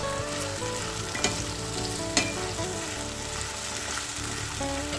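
Paste of onion, garlic, ginger and tomato fries loudly in a pan for a spicy chicken kosha, a steady dense sizzle with a couple of sharp stirring clicks and no talking.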